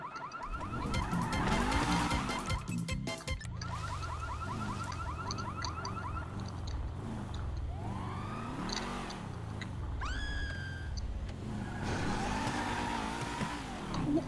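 Car driving in Grand Theft Auto V, with a steady engine drone over the whole stretch, tire squeals and skids, and a rising siren-like tone near the middle, all loud and continuous with no talking.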